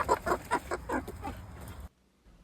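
Chickens cluck in a quick, close series of short calls, then fall silent.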